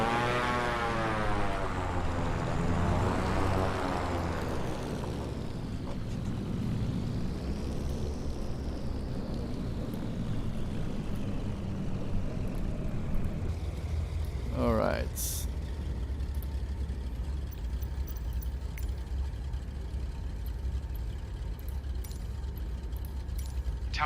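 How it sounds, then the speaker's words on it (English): Steady droning of turbocharged engines on a Cessna 414AW Chancellor in Microsoft Flight Simulator 2020, with a rising and falling whine early on and a brief sharp mechanical burst midway. "Just listen to those beautiful turbocharged engine noises."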